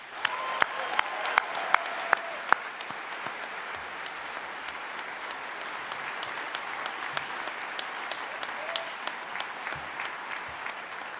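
An audience at a university convocation claps steadily in sustained applause for the graduating medical class, a few sharp individual claps standing out at the start, with no voices.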